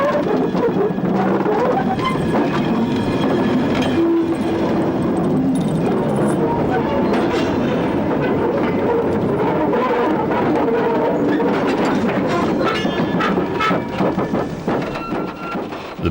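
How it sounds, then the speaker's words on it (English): Steam-era train wheels running over bolted rail on wooden sleepers, recorded in an archive, giving a loud, dense, continuous rumble with rhythmic clatter throughout. "Even the sound of wheel running on rail in the classic age was different."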